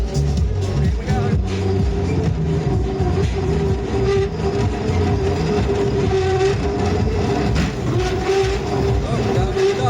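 A Demon Chaser ghost train ride rolling along its rails makes a continuous loud rumble with rattling and a steady mechanical hum throughout, and voices are faintly present under the noise.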